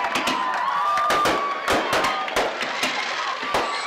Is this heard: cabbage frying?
no